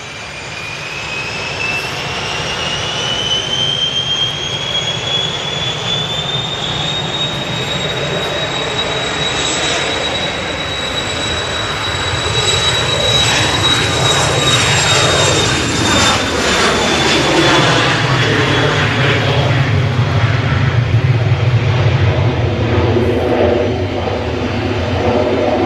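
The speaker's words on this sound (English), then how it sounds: "And that Ryanair is now moving towards us." A Ryanair jet airliner taxiing at Manchester Airport, its engines whining with a rising then gently falling high tone over a broad rumble that swells closer and louder toward the end, no voices.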